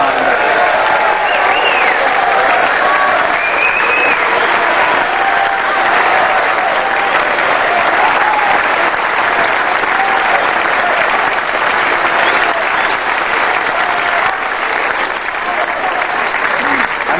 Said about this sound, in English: A round of applause too, please, for the referees who have done such a magnificent job over the full 9 days.